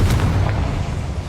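A Confringo blasting spell exploding in Hogwarts Legacy, a loud deep boom with rumbling decay that fills the moment, alone without talk.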